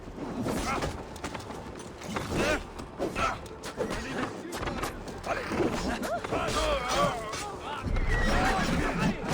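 Horses whinny amid a busy battle clamour of shouts, clashing and hoofbeats, with voices calling out throughout, during the Siege of Paris in the video game Assassin's Creed Valhalla.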